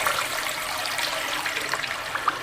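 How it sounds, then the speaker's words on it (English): A toilet flushes with a loud, close, continuous rush of swirling water throughout, with no voices. "it's hard to hear you over the toilet flushing"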